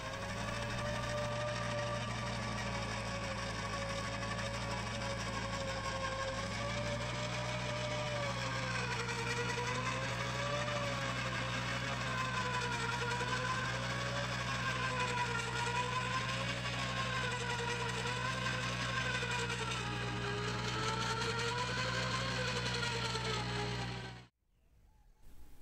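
Steady mechanical drone of a geotechnical soil borehole drilling rig on a building site, running continuously with a slowly wavering pitch, then cutting off abruptly near the end; no voices.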